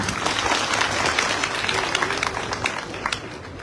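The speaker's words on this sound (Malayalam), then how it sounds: "ഒരിക്കൽ കൂടി എനിക്ക് തന്ന കൈയടികൾക്ക് എല്ലാവർക്കും നന്ദി." Audience applause at a public event in Kottarakkara: a dense, sustained wash of many hands clapping, steady and fairly loud throughout, with no clear pauses.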